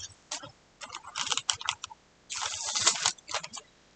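Sublimation transfer paper peeled off a hot Christmas item, giving bursts of crisp crackling and tearing, close and fairly loud, in two main stretches with short pauses between.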